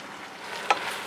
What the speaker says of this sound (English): Keep stirring round, browning off the meat